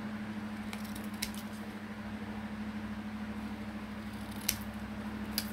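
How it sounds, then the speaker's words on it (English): Scissors trim paper for handmade Christmas tags, with a few sharp, brief snips spaced apart over a steady low electrical hum in a quiet room. "So I'm just gonna trim these off"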